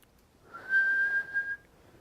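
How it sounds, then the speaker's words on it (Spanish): A single person whistles one steady, sustained pure tone for about a second, fairly clear and close, with no talking. "Entonces, es silbar,"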